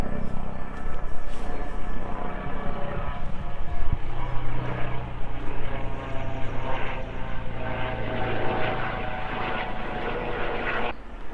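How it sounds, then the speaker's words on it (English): A helicopter flying overhead, its steady rotor and engine drone hanging over the whole scene, loud and continuous, fading out abruptly at the very end. "we have a helicopter and it's obviously searching for something"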